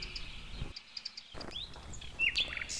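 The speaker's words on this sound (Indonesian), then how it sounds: "Ini merupakan burung kakatua raja." Palm cockatoo calling, a few short whistled and chirping notes, with one clearer rising call near the end, moderately near against a quiet background.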